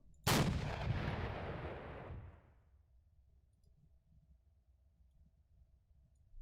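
A single heavy artillery shell explosion in the ArmA 3 IFA early-war mod booms loudly, then rumbles and decays over about two seconds before the scene falls to quiet ambient noise.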